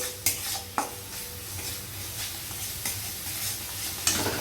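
Spice masala for a kajoli fish curry is stir-fried in a pan, a steady close sizzle broken by several distinct knocks and scrapes of a metal spatula against the pan.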